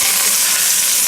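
Pork fingers brown in a frying pan, giving a loud, steady, close sizzle of hot fat with no pauses.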